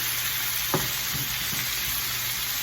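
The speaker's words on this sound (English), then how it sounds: "I like to brown the chilies a little bit." Chilies browning in a frying pan while making spicy mango coconut chutney, a loud, steady close-up sizzle with a couple of brief stirring knocks and no voices.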